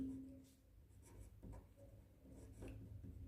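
Pen scratching on paper while a sum is written by hand during a maths lesson, soft intermittent strokes and taps, faint and close, with no talk.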